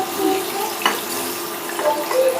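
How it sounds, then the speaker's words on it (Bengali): Diced potatoes frying in oil with turmeric and salt, a fairly loud hissing sizzle that runs steadily the whole time, with a single brief knock of a utensil against the pan, heard nearby without talk. "এগুলোকে ভালো করে আমার আলুটাকে লালচে করে ভাজতে হবে।"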